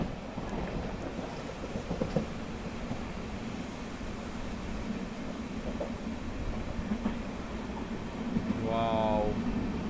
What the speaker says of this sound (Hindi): और देखिए वापस से भर भर के बारिश हो रही है यहाँ पे, ज़ोरदार बारिश के साथ एंट्री अपनी।